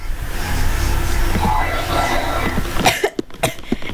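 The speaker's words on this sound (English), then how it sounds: "I won't be keep coughing every single time I talk." A person coughs a few times in quick succession near the end, close and fairly loud, following a stretch of steady noisy background from a Minecraft Eggwars game session.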